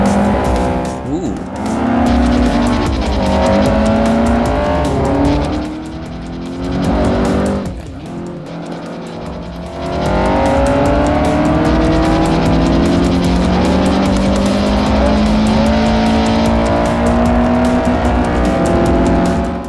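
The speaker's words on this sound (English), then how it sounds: "Honda don't sound too good through there." Honda hatchback racing in Forza Motorsport 4, C-class race: loud revving engine with rising and falling gear shifts, tire squeal and skidding through corners, a brief quieter dip midway, continuous and close.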